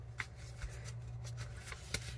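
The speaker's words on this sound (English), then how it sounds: "let's flip the paper over again and fold this part of the paper to this side and fold it like this" A sheet of paper is flipped and folded into a paper airplane, giving faint, close rustling and crisp creasing sounds with a few sharper flicks.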